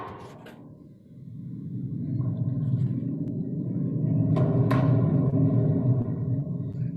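A handheld thunder instrument produces a low, swelling rumble that builds steadily and sustains, with a couple of brief rattling clicks on top, close and fairly soft.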